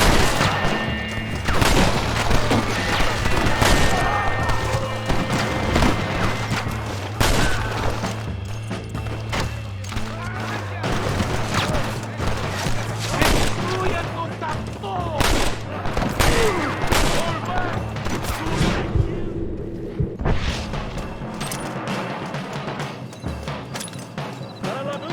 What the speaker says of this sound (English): Vou pegar a pistola pra economizar no rifle.